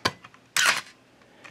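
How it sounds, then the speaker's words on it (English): A Canon AE-1 35mm film SLR camera, a sharp mechanical click followed by a short ratcheting burst of the film advancing, close and crisp, with no talking. "And then we can watch the film advance."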